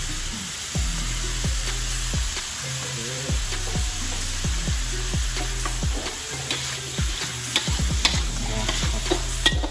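Lightly salted pork is stir-fried for fried rice, loud and close, with rhythmic repeated scraping strokes of the spatula over a continuous hot sizzle.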